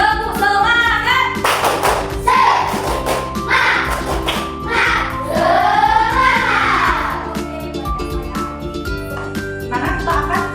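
A class of students claps a rhythmic spirit clap together, with sharp, patterned hand claps in bursts over several seconds and some voices mixed in.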